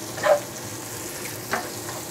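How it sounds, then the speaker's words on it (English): Bacon and jalapenos cooking in a frying pan give a quiet, steady sizzle, broken by two brief stirring clatters near the start and in the middle, with no one talking. "I'm just going to keep cooking this till all the bacon is crisp."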